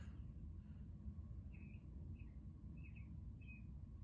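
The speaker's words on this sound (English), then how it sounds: "Can you hear the bird?" A bird calls from above a chimney, a few short chirps spaced apart, faint over a steady low rumble of background noise.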